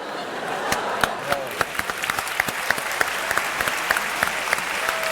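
Audience applause for a singer after a sung ballad on a Turkish comedy-variety show stage, dense steady clapping from a studio crowd with sharp individual claps standing out, sustained throughout at moderate loudness.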